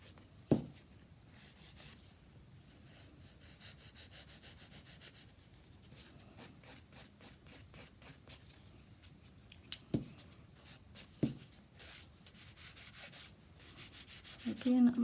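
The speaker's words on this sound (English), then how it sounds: "Again, I'm always filing up towards that apex." A nail file rasps over an acrylic nail toward the apex, producing soft, close, steady back-and-forth scraping strokes with a few sharper scratches, all fairly faint.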